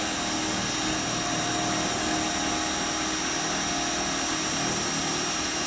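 A drill boring through aluminium on a car project, a steady high-pitched whine with a grinding edge held continuously for several seconds, no talking.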